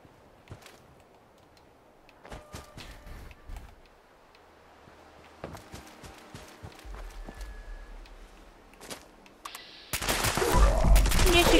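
Gunfire in the video game Fallout 76. Scattered single shots and short bursts crack over quiet footsteps and movement, and a dense, loud barrage of fire comes near the end.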